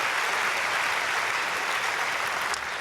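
A church congregation at a dawn prayer service applauds, dense steady clapping from a large crowd, even and sustained throughout.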